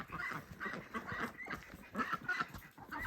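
A small flock of pet ducks quacking and honking repeatedly at close range as they are herded into their pen for the night, a busy irregular chorus of calls.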